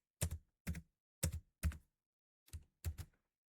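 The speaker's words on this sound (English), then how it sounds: "there I am typing the student name" Six separate keystrokes on a computer keyboard, crisp close taps in an irregular rhythm with silence between them.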